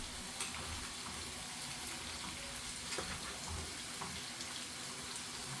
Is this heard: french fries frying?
yes